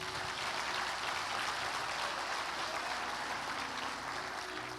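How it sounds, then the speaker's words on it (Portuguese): Steady, dense clapping from a church congregation fills the space without letup, a broad wash of hands at moderate distance with faint tones underneath. "Dê um aplauso a Ele."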